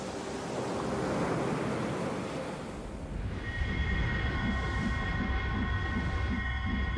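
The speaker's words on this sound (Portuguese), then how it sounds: "Eu poderia pegar essa onda que me carregaria a grande velocidade através do mar" Ocean surf rolls in a continuous loud wash of breaking waves, joined partway through by sustained tonal notes layered over the roar, with no voices.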